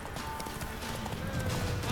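Roach the horse trotting in the video game The Witcher 3, quick clip-clop hoofbeats in a steady rhythm under game ambience, short and fairly close.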